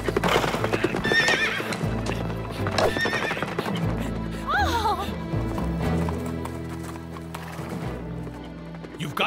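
Horse galloping with rapid clip-clop hoofbeats and a sharp whinny midway, loud and close, with a musical score underneath.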